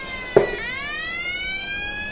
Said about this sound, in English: here's the old siren